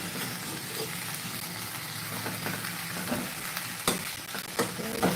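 Mutton keema stuffing cooking in a pan over a low flame, with a steady soft sizzle and occasional scraping stirs growing a little more pronounced toward the end.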